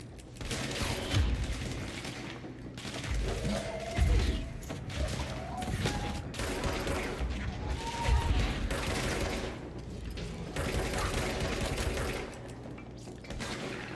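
Hand cannon gunfire in the video game Control: several sharp shots in irregular bursts, with mechanical clatter and reloading in between, loud and close over a steady game background.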